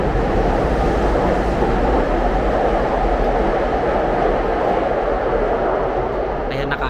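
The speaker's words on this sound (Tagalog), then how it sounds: "Paalisin muna natin yung mga train." A train pulling out of a station near Kawaguchiko, a steady rumble and rolling roar that carries on evenly through the whole stretch, with a voice talking over it.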